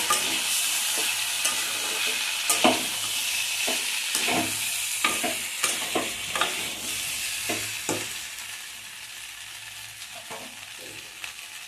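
Bitter gourd and fried raw plantain being stirred in a sizzling pan for Bengali sukto, with a steady frying hiss broken by repeated scraping strokes of the spoon, close and clear, with no talking.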